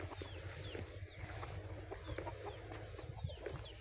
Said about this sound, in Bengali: কালো কালো মুরগিগুলো এই যে এগুলো দেশি আছে